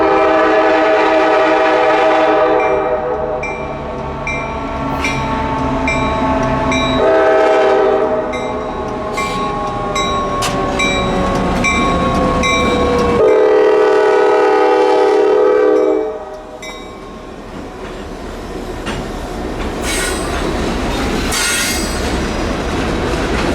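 A freight train rumbles past through Carolina countryside with blaring horn blasts and squealing wheels, loud and close, the horn sounding in several long tones before fading.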